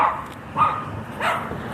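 Dogs bark while someone walks by outside, three muffled barks spaced evenly at a moderate distance over a steady outdoor background, no talk.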